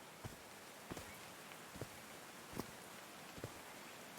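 Steady rainfall in the video game Call of the Sea, a soft continuous hiss with occasional distinct drops plinking close by.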